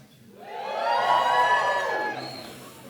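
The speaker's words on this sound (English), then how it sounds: "Give us a cheer if you're up for an award tonight." A crowd of award nominees at the Shropshire, Telford & Wrekin Apprenticeship Awards cheers and whoops in a hall, the shout swelling quickly to a peak and then fading away, heard alone without speech.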